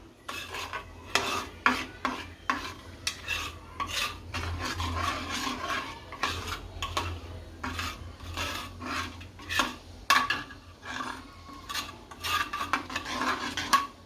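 Continuous scraping and rubbing of a utensil against a bowl as Kashmiri chilli, coriander-cumin powder and salt are stirred into a papad curry mixture, in repeated quick strokes, close by with no talking.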